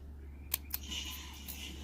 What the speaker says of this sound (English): we need to cut a little V down there and a couple spots